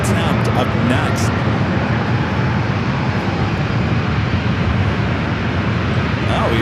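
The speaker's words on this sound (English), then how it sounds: "Up next is that go-around coming in from San Jose, flight 2492, a second attempt up next." Aircraft going around at San Diego airport for a second landing attempt, heard as a loud, close, sustained jet engine roar with broad low rumble throughout, a voice talking over it.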